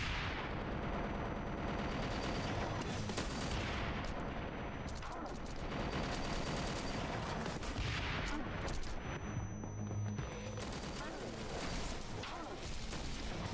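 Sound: gunfire from the video game Wanted: Dead

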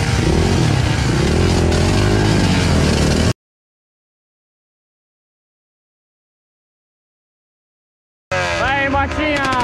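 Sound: small motorcycle riding on a trail

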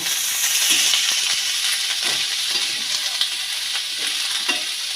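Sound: onion and green chilli being stirred while frying

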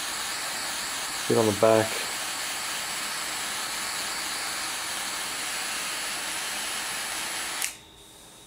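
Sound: gas torch flame shrinking heat shrink tubing on wire

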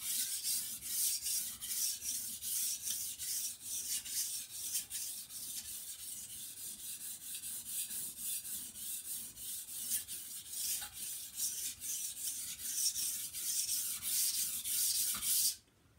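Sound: knife sharpening on whetstone, steel swarf forming

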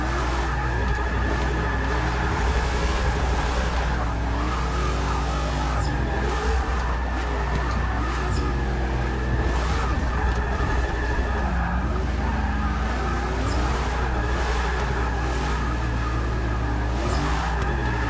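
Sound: Hot Wheels Mustang driving, from video game Forza Motorsport 6

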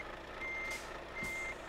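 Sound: truck reversing to park, from video game Euro Truck Simulator 2

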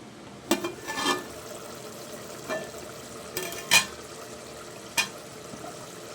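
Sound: onions being stirred while frying for mutton pulao

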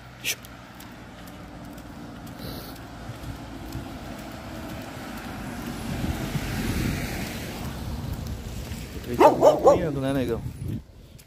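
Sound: dog barking

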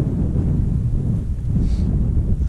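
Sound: wind blowing on an open moorland edge

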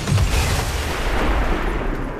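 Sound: car explosion in the video game XCOM 2

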